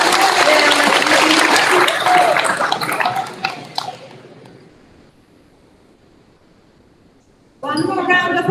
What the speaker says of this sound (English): One more round of applause for all.